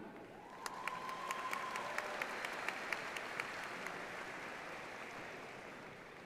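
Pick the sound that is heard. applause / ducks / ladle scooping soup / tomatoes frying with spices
applause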